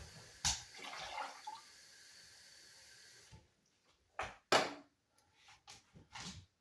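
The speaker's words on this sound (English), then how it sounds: "I'm going to add a can of water" Water poured from a can into a pot of tomato sauce: a brief splash, then a soft trickling pour, followed by a few clunks and handling sounds of the can, quiet and close.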